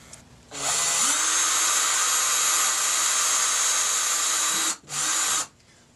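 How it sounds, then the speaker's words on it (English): Power drill piloting a screw hole into a grip held down on a table, a loud steady whine running about four seconds, a brief stop, then one short second burst, with no talking. "That's all it takes to pilot the hole"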